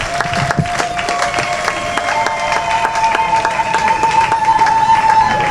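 Wedding guests at an official marriage ceremony burst into sustained clapping and cheering, a dense crowd applause with ululating and whistling tones running throughout.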